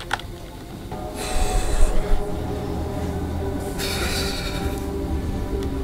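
Train in the video game Choo-Choo Charles rumbling along with a low continuous drone, broken by two bursts of bright hissing, screeching noise.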